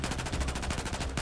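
Rapid automatic gunfire from a Battlefield 4 firefight, a dense, steady burst of loud shots rattling continuously with no pauses.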